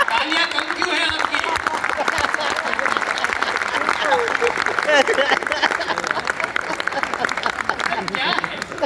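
An audience at a Rajasthani poetry gathering applauds, steady crowd clapping with murmuring voices and chatter running underneath throughout.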